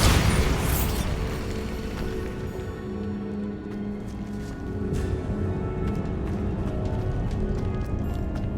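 In the Hogwarts Legacy video game, a Bombarda spell goes off with a loud burst at the start, then a rumbling boom that fades into a steady low roar and scattered crackles.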